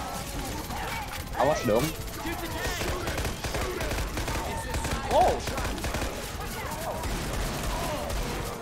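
Rapid gunfire and crashing hits from the zombie shooter Left 4 Dead 2 during a tank fight, sustained bursts running through the whole stretch while players shout and talk over it.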